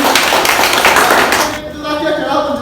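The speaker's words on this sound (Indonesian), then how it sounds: "terima kasih tepuk tangan" Clapping from a classroom audience after a micrometer offset calibration demonstration, a dense patter of many hands for about a second and a half before it quickly dies away.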